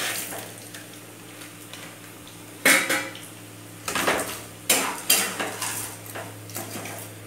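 Maggi instant noodles, three small packets, go into a cooking pan with a few loud clanks and scrapes of metal on metal, followed by softer clattering and stirring.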